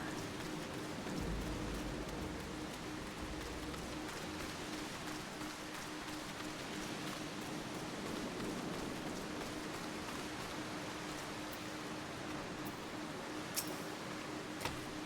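Heavy rain falling in the video game Final Fantasy XIV, a steady dense hiss of drops with a faint low hum beneath, continuous and even throughout with no talking.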